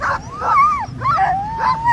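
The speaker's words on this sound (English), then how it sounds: "You can hear the dogs are like, wait a second, we were supposed to be starting." Sled dogs at the start line of a K300 sled dog race yip and whine in excited, rising bursts, several close voices overlapping almost continuously.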